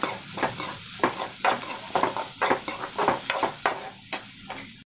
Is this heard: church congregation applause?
no